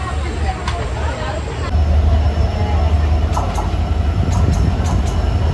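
A passenger train on a Jaffna–Colombo line reverses along the track to switch lines, a steady low rumble of rolling wagons with occasional clicks and squeals, close by and continuous, with faint voices in the background.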